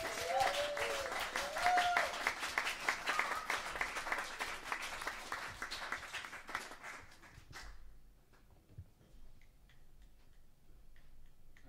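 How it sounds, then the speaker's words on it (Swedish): Warm applause from a jazz concert audience at a music academy, brisk dense clapping for roughly seven seconds that cuts off sharply into near silence. "Så en stor varm applåd för gänget."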